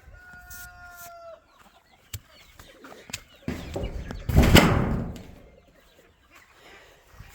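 Chickens in a backyard flock cluck, with a brief crow among them, in cold weather. The calls come in short bursts amid rustling and knocks, growing louder near the middle before fading out.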